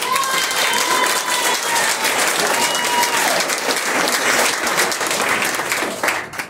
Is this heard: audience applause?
yes